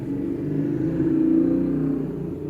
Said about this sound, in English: Thanks, motorcycle.